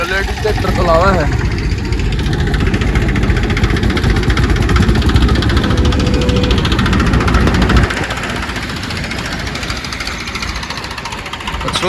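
A tractor engine runs loudly and steadily throughout at a brick kiln, with a rough low rumble, dropping somewhat in level near the end; voices talk over it.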